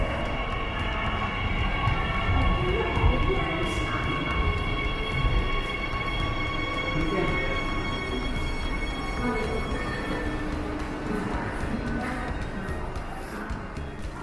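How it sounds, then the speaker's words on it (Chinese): A Beijing Subway Line 14 train, a six-car Type A set, pulls into a station with a loud, steady rumble of wheels and motors, high whining tones and squeals running over it for the whole stretch, with faint voices at times. "可以听到14号线这个车进站声音还是挺大的"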